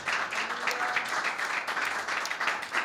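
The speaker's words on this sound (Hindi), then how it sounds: "यीशु के लिए तालियां बजाए।" A church congregation at a Sunday prayer meeting claps and applauds together, a dense, steady wash of many hands sustained throughout at close range, with no voices over it.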